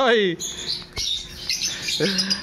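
Birds chirp and tweet in rapid high calls at a crowded outdoor pet market in Bocaue, under a voice talking near the microphone.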